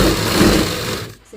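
A sewing machine stitches a salwar seam at home in one loud, fast, buzzing run that stops abruptly at the end.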